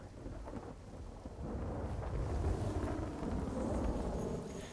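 Heavy monsoon rain pours down in the town of Khambha with water collecting on the roads, a dense steady roar joined by deep rumbling thunder and wind buffeting the microphone, growing louder partway through.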